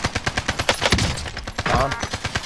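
Incoming fire in Warzone: rapid, steady automatic gunfire hammering in a fast rhythmic stream, loud and close, with a brief voice in the middle.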